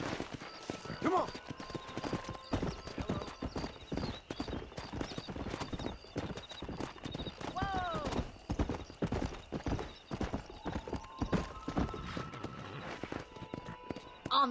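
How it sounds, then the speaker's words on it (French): Horse hooves clip-clop in rapid galloping rhythm during a horse race in the Red Dead Redemption video game, with occasional whinnies and a voice talking over the action. "on va faire la course de cheval, là."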